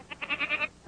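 A goat gives a single wavering bleat, several quick pulses in one close, clear call.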